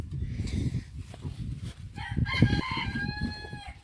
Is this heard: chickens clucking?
yes